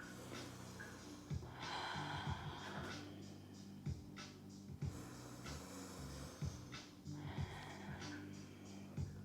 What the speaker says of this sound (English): Nose towards toes, and just take 3 deep breaths.